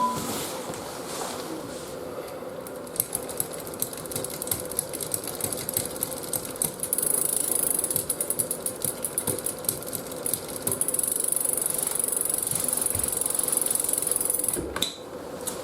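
Road bike chain turning through a poorly meshing rear derailleur, a steady close whirring with fine scratchy clicking running throughout, alone, ending abruptly.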